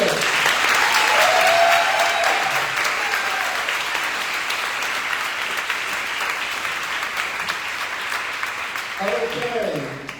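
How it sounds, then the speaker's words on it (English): Sustained applause from a town hall crowd in Southern Indiana for a gubernatorial candidate, dense clapping that fills the space, with a few voices and cheers rising near the end. "big round of applause for our gubernatorial candidate"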